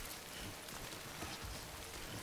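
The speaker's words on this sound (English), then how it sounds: "and it is raining." Rain falls in the video game Death Stranding, a soft, steady hiss of drops on surfaces, low in level and unbroken, with no voices over it.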